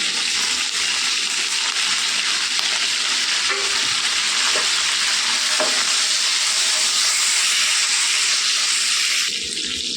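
Dry and green chillies, garlic and curry leaves fry in oil for a ridge gourd stir-fry, making a loud, continuous close sizzle with occasional faint clinks from stirring.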